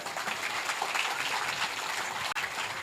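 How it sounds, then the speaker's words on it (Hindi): Applause from a devotional gathering's audience during a Devi Bhagwat Katha, a dense steady patter of many hands sustained at even loudness for about three seconds, with no talking over it. "इसके लिए जोरदार तालियां एक बार"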